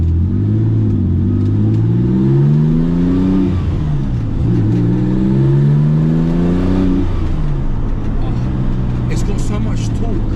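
A Porsche 911 GT2 Evo of the 993 generation accelerates hard, its engine note climbing through repeated rising sweeps and gear changes, loud and close from inside the car while people talk over it.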